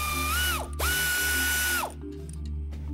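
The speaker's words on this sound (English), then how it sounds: "Remove the rear shock mount nut using a 14mm socket." A 14mm socket on a power tool or ratchet spins off the rear shock mount nut on a 2016 Toyota Tacoma during a leveling kit install, a loud whirring run with a pitch rise and fall, then a short quieter mechanical tail.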